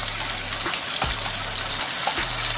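Water from a one-cup measure poured into a pan of chicken korma with pineapple, a brief splash and gush over a steady background sizzle, close by.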